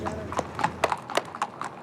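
Horse hooves clip-clop in a steady rhythm at the royal stables of the Sultan of Oman, close and distinct, with a faint voice underneath.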